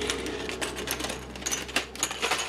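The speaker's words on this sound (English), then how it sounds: "So they're gonna click together so that they're the same height." Anderson Powerpole connectors are pressed and slid together, producing a run of small, sharp plastic clicks and taps in quick, irregular succession, close up and moderately loud.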